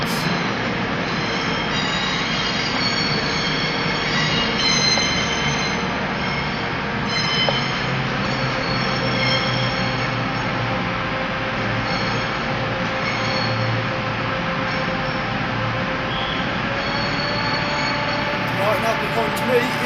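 A Cross Country Class 220 Voyager train arrives at Birmingham New Street station with continuous loud wheel squeal over a rumbling rail bed, steady throughout. Voices can be heard in the background.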